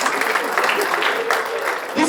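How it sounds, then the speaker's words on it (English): Audience at a Melava Malka gathering applauds a helper leaving the stage, the clapping dense and fairly loud and mixed with voices and crowd noise. "Give her a round of applause as she helped me"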